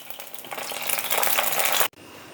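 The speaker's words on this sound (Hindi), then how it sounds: "बैंगन हमारे फ्राई हो गए हैं, साथ में हरी मिर्चें।" Eggplant and green chillies fry in oil, a close, bright sizzle with stirring that builds steadily and then cuts off abruptly near the end, with no talking.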